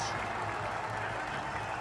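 Cricket crowd applauding a batsman reaching fifty in a Sri Lanka versus West Indies match, a steady, fairly distant wash of clapping under commentary.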